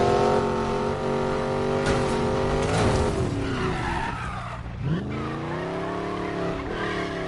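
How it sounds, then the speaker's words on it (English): A Koenigsegg Regera supercar in Need for Speed Payback squeals through a long handbrake skid, tires screeching loudly over a steady engine roar that dips and then rises again. "Let's actually handbrake through that."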